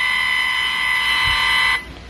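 An EMF meter alarm sounds as one continuous shrill electronic buzz-beep, loud and close, holding steady for under two seconds before cutting off abruptly.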